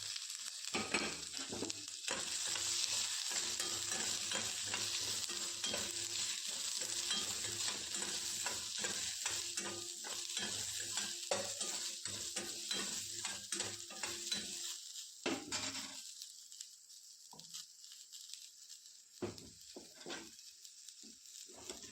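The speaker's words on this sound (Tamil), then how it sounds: "இது நறுக்கி வச்சுருக்க வெங்காயத்தை போட்டுக்கலாங்க." Chopped onions sizzling and crackling in hot oil, loud at first and settling down, with occasional stirring scrapes in a pan.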